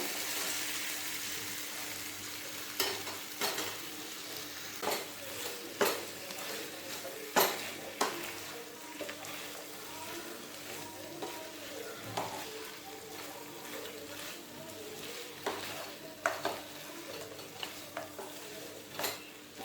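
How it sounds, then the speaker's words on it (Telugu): Boiled chicken with softened tomato is stirred and fried in a pan, a soft sizzle running under repeated scraping and clinking spoon strokes against the pan. "ఇలా ఒకసారి బాగా కలుపుకొని రెండు నిమిషాలు ఫ్రై చేసుకున్న తర్వాత"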